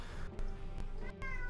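A cat meows twice in quick succession, close and fairly loud, with voices and game sounds in the background of a Dota 2 tournament broadcast.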